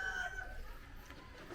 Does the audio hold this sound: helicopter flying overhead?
no